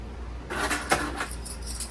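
A short metallic jingle of keys for a 2025 Shasta 31QB RV, light and close, shaken a few times over a low steady hum.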